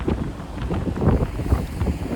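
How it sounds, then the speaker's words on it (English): Low, rumbling buffeting of wind hitting the microphone, continuous and fairly loud throughout with gusty fluctuations, no speech. "And guys, if it's windy, I apologize."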